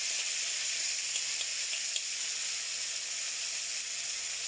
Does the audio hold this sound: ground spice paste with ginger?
yes